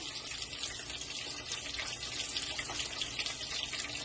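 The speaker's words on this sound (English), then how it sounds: "So now guys, as the fish fry, I'm going to add some lemon juice" Red snapper fries in a pan with a steady, dense hiss and crackle of hot oil, continuous and close, with no voices over it.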